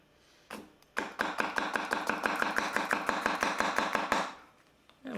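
A Konosuke Honyaki Gyuto knife chops rapidly and evenly on a cutting board, a close, steady run of crisp knocks at about five per second lasting several seconds before stopping.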